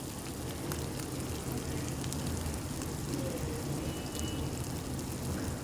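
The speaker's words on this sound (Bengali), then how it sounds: "আমি এবার ভালো করে এটাকে কষতে থাকবো।" Tomatoes and spices fry and sizzle in oil in a pan for a katla fish curry, giving a dense, steady crackle with faint pops throughout and no voices.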